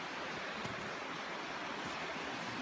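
Steady broadband rush of flowing water near Indian Rock House cave on a hike in Buffalo National Riverway, Arkansas, a constant wash with no talk.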